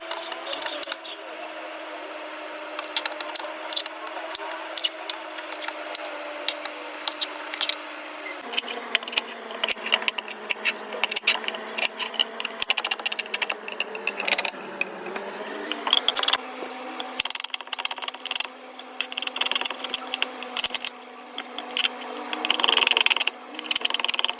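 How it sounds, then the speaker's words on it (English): Onions sliced with a knife, a steady run of light, crisp cuts and taps over a low background hum, close and unhurried. "The onions are done chopping"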